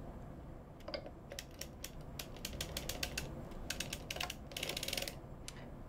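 A hand-cranked circular sock knitting machine works hand-painted yarn, giving quick rattling clicks and ratcheting ticks in irregular bursts. The clatter is close and fairly quiet, and it grows busier toward the end.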